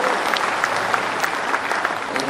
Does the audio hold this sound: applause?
yes